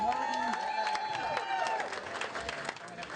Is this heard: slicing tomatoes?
no